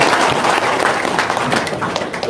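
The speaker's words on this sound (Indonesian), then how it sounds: "Tepuk tangan dong." Audience applause fills the room, a dense, steady wash of clapping that holds at a constant loud level from start to finish.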